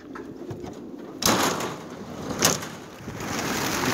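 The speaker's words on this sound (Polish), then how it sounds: "Na kabinie mamy ponad 600 gołębi." More than 600 racing pigeons are released together from a transport cage, and a sudden loud rush of flapping wings bursts out. The fluttering swells again briefly before settling into a steady whoosh of wings outdoors.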